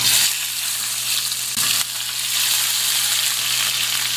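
Tilapia fish pieces frying in a hot pan, with a loud, continuous hiss and sizzle and a brief surge near the middle as the oil flares.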